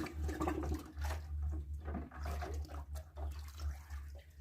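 Paint sprayer part dropped into a bucket of water, a soft sloshing and gurgling of water with low, rumbling churning, close up and quiet.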